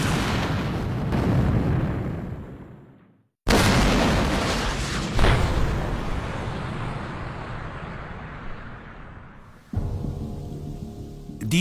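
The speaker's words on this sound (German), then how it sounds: "Das im Krieg beschädigte Berliner Stadtschloss, die alte Residenz, gesprengt" Demolition blast at the war-damaged Berlin City Palace, the old royal residence: a sudden heavy boom followed by long rumbling debris decay, then a second sharp blast onset near the end.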